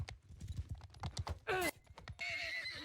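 Horses in Mount & Blade II: Bannerlord, heard during a competitive multiplayer battle: a quick run of clip-clopping hooves, then a loud, sharp whinny midway, and a lingering higher tone near the end.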